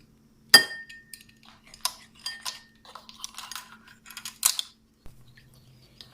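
Soy sauce and oyster sauce are mixed in a bowl, with a sharp clink at the start and then lighter scattered taps and clinks of utensil on dish, close and fairly quiet.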